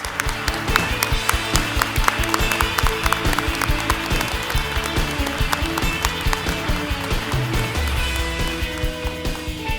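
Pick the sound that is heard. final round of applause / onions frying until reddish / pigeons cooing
final round of applause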